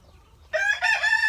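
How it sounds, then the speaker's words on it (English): Rooster crowing on a farm, a loud close call rising after a short quiet start and carrying on in two sustained bursts, with hens in the flock nearby. "You can hear them crowing."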